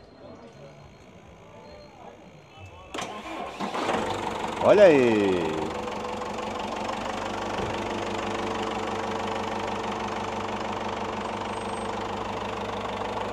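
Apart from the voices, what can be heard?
used popular car engine starting and idling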